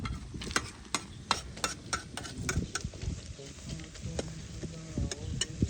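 Onions frying in a pan in hot weather, with steady crackling sizzle and clattering stirring strokes close by, fairly quiet.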